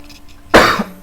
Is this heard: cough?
yes